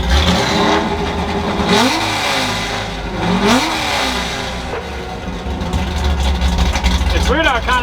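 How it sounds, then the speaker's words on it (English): A Ford F100 truck's NASCAR engine idles lean with a steady, loud rumble that rises and falls in a couple of small revs, and a voice speaks over it. "It's weird how it kind of idles like pretty lean"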